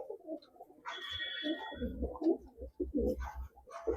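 Soft, low pigeon coos repeat in a steady pulsing rhythm, close by, with a brief higher chirping call early on and faint background noise.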